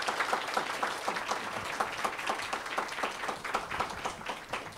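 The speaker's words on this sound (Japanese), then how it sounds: "もう一度登壇者の方に盛大な拍手をお願いいたします" A crowd applauds speakers at the end of an event, a dense, steady patter of clapping at moderate volume that carries on throughout.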